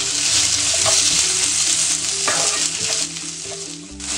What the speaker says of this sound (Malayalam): ഇനി അതിലേക്ക് ഒരു 1/2 ടീസ്പൂൺ ഗാർലിക് പേസ്റ്റും 1/2 ടീസ്പൂൺ ജിഞ്ചർ പേസ്റ്റും ഇട്ടിട്ടുണ്ട്. ഇട്ട് ഒന്ന് ഇളക്കി കൊടുക്കണം.